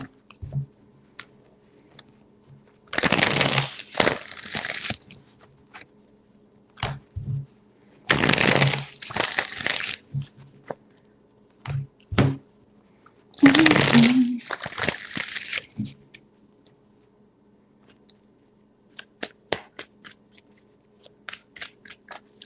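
Tarot cards are shuffled in three distinct bursts of rapid riffling, close and crisp, separated by quiet gaps with scattered taps and soft handling sounds.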